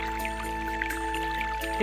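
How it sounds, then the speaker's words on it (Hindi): Water flows through a farm field in rural Chhattisgarh, heard as faint, soft trickling and scattered drips over a steady low hum, with no voices. "ये दे पानी चलत है जगह"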